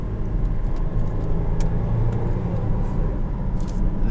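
A 2017 Land Rover Discovery being driven, with a steady low engine and road rumble filling the cabin at an even level throughout, and a few faint clicks and rattles on top.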